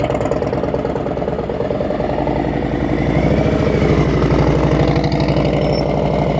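A motorcycle engine idles and rumbles steadily through slow-speed riding practice on a Georgia training course, a continuous mid-low throb that grows slightly fuller and more pulsing partway through as the throttle is held.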